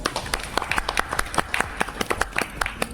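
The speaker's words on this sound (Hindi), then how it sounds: "तालियां।" Sparse, uneven clapping from a small wedding gathering after a vow is accepted at a Hindi-speaking ceremony, with sharp irregular claps over a low background hum.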